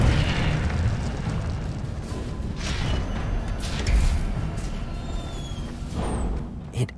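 An Incendio fire spell is cast in the Hogwarts video game, unleashing a loud, continuous roaring blast of flame with repeated surging bursts that carry on to the end.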